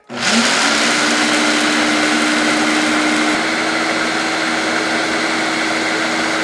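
A kitchen blender grinds peanuts into peanut butter, a loud, steady motor whir running alone and continuously from start to finish, its pitch dipping slightly partway through as the load thickens.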